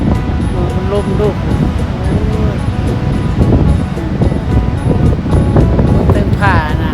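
Strong, dry, cold wind gusting steadily at a lakeshore beach, a loud continuous roar with rustling and microphone buffeting, and people talking faintly underneath.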